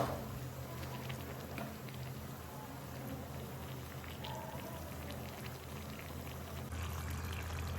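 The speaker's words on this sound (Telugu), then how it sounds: "ఒక మీడియం సైజ్ గ్లాస్తో నేను నీళ్ళు అయితే వేసుకున్నాను." A medium glass of water is poured into chicken gravy in a pot, a soft, faint splashing pour followed by quiet bubbling and patter.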